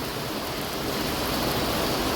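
Sudden heavy rain falls steadily, a dense, close, even hiss of downpour with no break and no voices.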